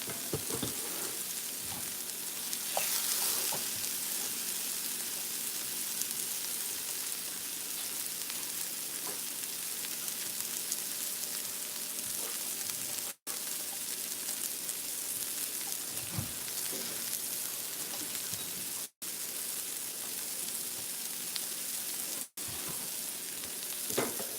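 Onions frying in a pan, a constant close hiss and crackle of sizzling oil that holds steady throughout, with a few faint stirring sounds and brief dropouts.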